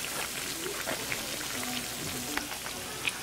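Gorditas de Maseca frying in a pan give a steady, even sizzle with scattered small pops and crackles, close and continuous.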